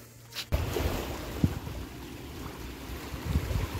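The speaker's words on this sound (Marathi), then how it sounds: "तिकडून एक होडी येते" A small boat passes on the sea near Betul Fort in Goa, its steady rushing engine and water noise blending with wind in a continuous, moderately loud wash.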